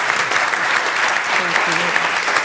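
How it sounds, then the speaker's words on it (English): An audience at a health data summit applauds a panel, a loud close burst of clapping lasting a couple of seconds, with a voice briefly speaking underneath. "I want the audience to give our panel a round of applause"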